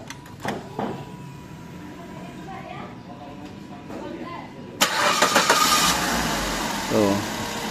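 Suzuki SX4 X-Over engine cranked by the starter and catching, a burst of loud broadband engine noise partway through after quieter workshop sounds, with a person talking before it.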